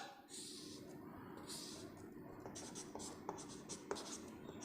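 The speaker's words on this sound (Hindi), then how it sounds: "लिखेंगे यहां पर पाइथागोरस" Chalk or marker strokes on a board during a class 10 maths lesson on trigonometry, a series of faint short scratching taps at a moderate pace over quiet room tone.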